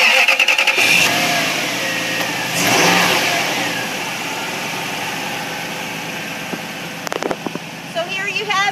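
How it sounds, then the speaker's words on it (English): A 2000 Toyota Tundra V8 starts, then runs with a loud close engine drone that swells briefly as it revs and settles into a steady idle, with some faint rattles near the end. "start the motor so you can hear this run. It is a V8, so you're not going to be short on power."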